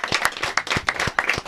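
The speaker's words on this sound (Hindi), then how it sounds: "जोरदार तालियां।" Audience applause at a televised Hindi talk show celebration, a short burst of dense, energetic clapping from a studio crowd, loud and close with no voices.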